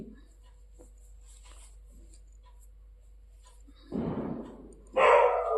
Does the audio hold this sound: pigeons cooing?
no